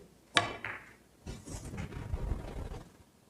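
Billiard cue tip strikes a ball in a bank shot, giving one sharp crack followed by a softer click, then quiet rolling and rustling on the table.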